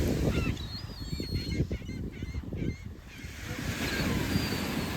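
Several seagulls calling with sharp, high cries over the steady wash of surf, the birds fairly close and the waves loud.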